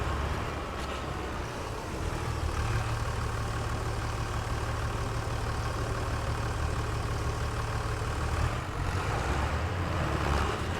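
A tractor engine in a farming video game runs steadily at a low, even idle-like drone, close and continuous throughout with no talking.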